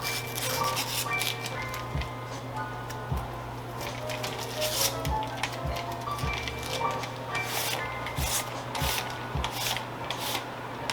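Lint brush rubbed over a shirt before sublimation printing, giving a steady close-up scratchy rubbing with repeated strokes and soft thumps across the whole stretch, with no talking.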